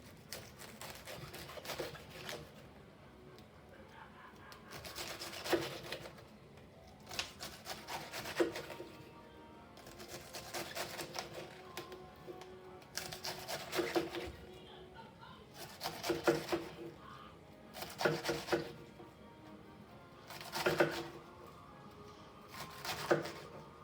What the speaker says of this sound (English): And then I'm cutting it into ribbons.